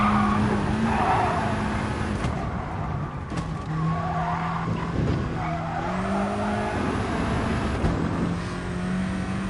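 A VW Cup race car in GT Sport driven flat out, its engine roaring loudly and continuously with shifting pitch and bursts of tyre squeal, close and steady with no talk.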